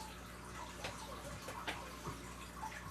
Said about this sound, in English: All you hear is that water fountain in the bed.